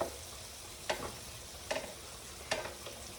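Onion fries in olive oil in a home kitchen pan with a soft, steady sizzle, broken by a few sharp clinks of stirring spaced about a second apart, heard close.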